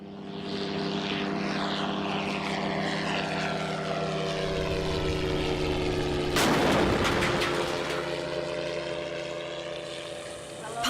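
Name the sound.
drone strike explosion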